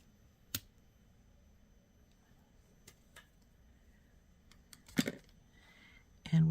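Crisp, isolated snips as crystal strands are cut open for a linked bracelet, a few sharp clicks spread out over a quiet room, the loudest near the end, before a voice begins to speak.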